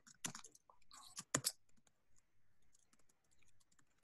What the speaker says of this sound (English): This is gonna be a lot of code to type out here.